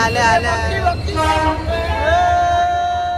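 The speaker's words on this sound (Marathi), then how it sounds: "ही ट्रेन आमची आली आमची ट्रेन आली." A train pulls into a station on a trip toward Raigad, its horn sounding a loud sustained tone over rumbling carriages, with voices nearby.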